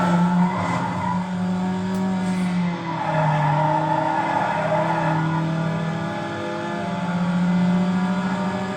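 Need for Speed: Underground's engines roar and whine continuously while tires squeal through turns, the engine pitch shifting up and down as cars accelerate.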